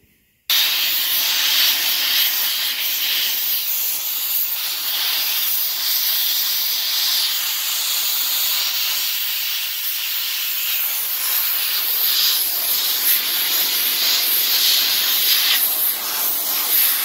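A Harbor Freight 110 lb pressurized abrasive blaster fires a continuous, loud hiss of air and grit that runs steadily for about sixteen seconds after a brief silence, with no talking.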